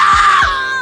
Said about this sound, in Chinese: 大橘失声惨叫着